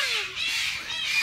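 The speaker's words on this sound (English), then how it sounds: "Birds. Jesus Christ. They're loud as f-" Birds squawk loudly outdoors, harsh raspy calls close by that overlap and swell over about a second.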